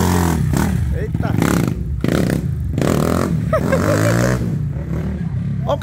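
A Honda CG 160 motorcycle built up with a 240cc piston runs and revs loudly and steadily, with rough engine clatter beneath almost continuous talking.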